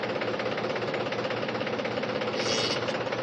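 A tractor engine idles steadily after a power steering repair, a continuous close, loud diesel rumble with an even knocking pulse throughout and a slight brighter swell near the end, with no talking.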